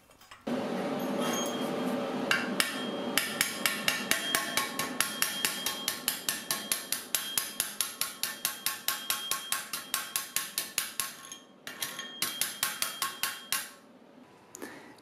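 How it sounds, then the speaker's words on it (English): Chipping slag off a stick weld on steel with a chipping hammer makes a long run of sharp, rapid metallic taps in a fairly regular rhythm, close and distinct, with a brief pause near the end. "I'm going to chip the slag off so we can take a look at the bead appearance"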